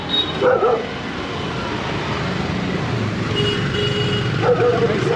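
Street dogs bark a couple of times over steady traffic in India, the barks standing out at the start and again near the end amid constant road noise.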